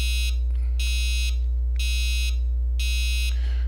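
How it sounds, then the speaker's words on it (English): Heathkit GC-1005Neo clock alarm buzzer sounding in four loud, evenly spaced bursts of harsh, bright tone, each about half a second long, over a steady low electrical hum. "I tried pretty much to duplicate the alarm sound"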